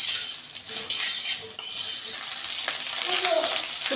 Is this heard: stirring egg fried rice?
yes